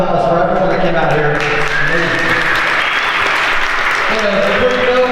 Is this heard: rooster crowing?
no